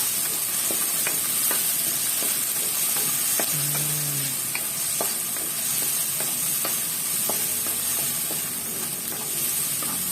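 Vegetables and tomato sautéing in a pan, a steady sizzle with scattered sharp clicks of a utensil scraping and stirring, close and continuous throughout.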